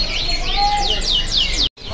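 Canaries of the AF variety sing at a bird market stall, a close, continuous run of bright warbling trills and rising sweeps over a busy background, cut by a brief dropout near the end.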